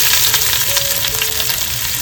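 Garlic and onion hitting hot oil for a spice tempering while cooking a curry, a loud, dense, continuous close-up sizzle with faint stirring throughout.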